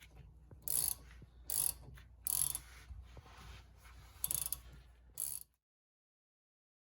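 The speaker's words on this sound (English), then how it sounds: "back out the slide pins to release them from the caliper" A ratchet clicks in several short bursts, close and fairly sharp, as the brake caliper slide pins are backed out on a Fiat 500 front brake, followed by quiet.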